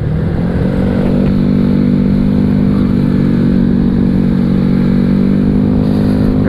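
Classic Vespa scooter with a 165cc bore-up engine cruising through Jakarta, a loud steady engine drone with a deep harmonic hum that holds level throughout, close to the microphone and without talk.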